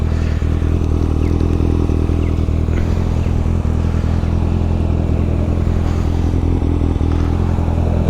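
A Kawasaki ZX sport motorcycle, recently repaired after a crash, idles and revs close by in a steady, loud mechanical drone with faint clattering, heard alone without any talking.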